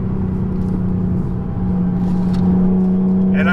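A Nissan 370Z with a Tomei 1.5-way clutch-type limited-slip differential drops a gear and powers through a turn, the engine droning steadily, then rising in pitch, heard from inside the car.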